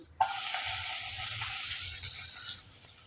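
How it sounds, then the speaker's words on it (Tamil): Mustard seeds and urad dal hitting hot oil in a pan for vermicelli kichadi, with a sudden burst of loud sizzling that holds steady and then fades out near the end, close and alone with no talk. "கடுகு உளுந்தம்பருப்பு வெடிச்சிருச்சு"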